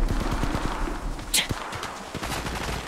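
Rapid automatic gunfire in the video game Apex Legends, dense close bursts of shots rattling in quick succession with one sharp, brighter report midway.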